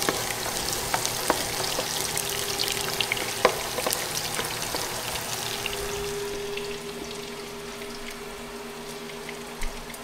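Garlic and onion fry in a pan, a steady dense sizzle with scattered pops and occasional clinks, gradually easing in intensity toward the end.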